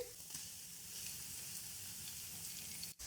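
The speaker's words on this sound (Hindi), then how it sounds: "प्याज को हम 4 से 5 मिनट हल्का सा रोस्ट करेंगे।" Finely chopped onions fry over a high flame in a pan, a steady soft sizzle running evenly throughout with a faint stir or scrape near the start and a brief dip just before the end.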